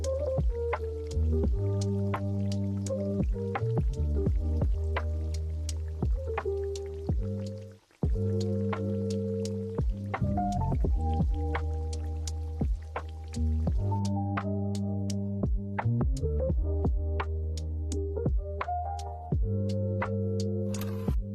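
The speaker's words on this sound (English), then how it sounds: "Make sure to coat the oxtail really well with the sauce." Oxtail is stirred and coated in thick sauce in a pan, giving close, wet squelching and dripping sounds that continue steadily with occasional clicks of the utensil.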